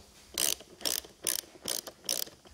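A socket ratchet tightens a bolt on a KTM 690 subframe, making five quick, close, crisp bursts of ratcheting clicks at an even rhythm, with short pauses between strokes.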